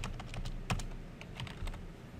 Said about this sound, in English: Only this time I'm going to type fire.